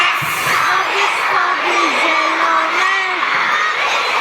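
A large concert crowd in an indoor arena shouts and sings along loudly and continuously, a dense wall of massed voices with a sung melody rising through it.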